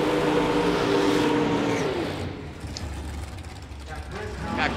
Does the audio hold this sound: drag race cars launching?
yes